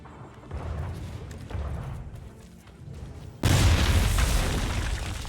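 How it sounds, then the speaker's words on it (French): Cannons firing in a naval battle in Assassin's Creed III Remastered, heavy booms rolling one after another, building to a loud sustained barrage of blasts, with a voice exclaiming briefly over them. "c'est la guerre. Oh là là là là. Oh, oh, oh, oh, oh, oh, les canons partout."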